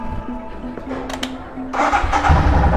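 A motorcycle is started outdoors before a ride: a faint whirring and a few clicks, then the engine catches with a sudden loud roar and keeps running rough and close.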